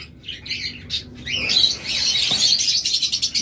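A pair of big, healthy local-breed cockatiels calls at close range, with squawks and chirps that turn into a continuous run of bright, rapid chatter.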